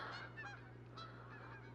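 Repeated honks from a Canada goose in the hunting game Call of the Wild, several calls spread over a constant low background drone, moderately faint and with no voices.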